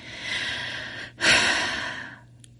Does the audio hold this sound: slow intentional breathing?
yes